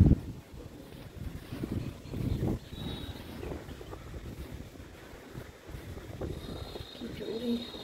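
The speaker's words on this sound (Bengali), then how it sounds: "কি জোরে হাওয়া বইছে," Strong wind gusts buffet the microphone at home in a low, rumbling roar that swells and fades, with faint rustling and distant background sounds mixed in.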